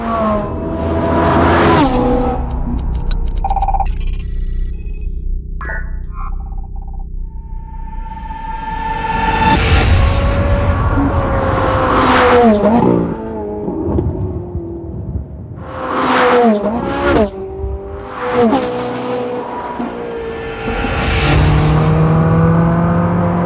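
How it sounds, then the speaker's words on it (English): A 2016 Ferrari 488 GTB's mid-mounted turbocharged V8 revs repeatedly, rising and falling in sharp bursts with rumbling gear changes, loud and close. "Because the 488 has a turbocharged V8 engine, the first in a mid-engine Ferrari since the legendary F40"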